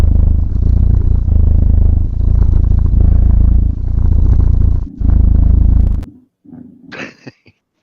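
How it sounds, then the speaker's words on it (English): A cat purring loudly and steadily up close in a continuous low rumble, with a brief break, then fading into soft rustles and a short higher sound. "They need a purr. Everybody wants a purr"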